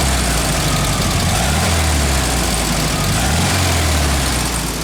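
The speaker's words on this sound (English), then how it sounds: "you can hear this engine. It's idling slower than it ever has." A stock 1966 VW Beetle engine with a Pertronix Flamethrower distributor idles slowly and loudly up close, a steady low rumble with a slight rhythmic wobble and no talking.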